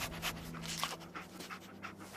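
A dog pants rapidly and rhythmically in the Fallout 4 video game, a close, steady series of breathy huffs with no speech over it.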